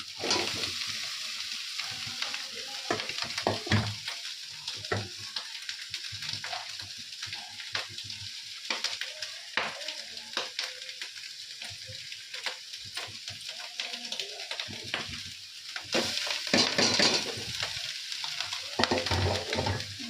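Food frying and sizzling in a pan in a home kitchen, with steady crackling hiss throughout and repeated scraping stirs of a utensil against the pan, fairly close and continuous.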